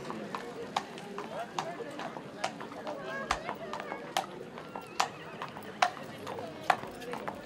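Horse hooves clip-clop in a steady rhythm of sharp strikes at a foal fair, with neighing and whinnying mixed in, while people talk nearby in the background.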